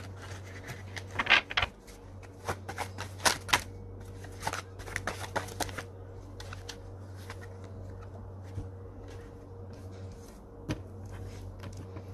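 Tarot cards are shuffled in bursts of crisp riffles and slaps during a card reading, loud and close at first, then thinning to occasional soft taps over a low steady hum.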